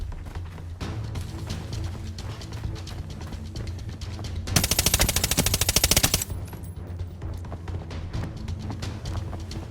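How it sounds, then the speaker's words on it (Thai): Rapid bursts of gunfire in the video game Arena Breakout, a dense rattling volley of shots lasting a couple of seconds, set against a steady game background rumble. "มีเสียงปืน"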